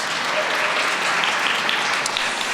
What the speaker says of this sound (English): Could you give them a nice round of applause?